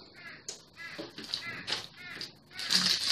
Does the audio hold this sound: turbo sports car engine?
no